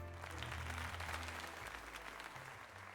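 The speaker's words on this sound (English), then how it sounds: "let us give another heartfelt round of applause to Ree." Applause in the video game Pokémon Legends: Z-A, a soft, steady wash of crowd clapping layered over low game music, quiet and continuous.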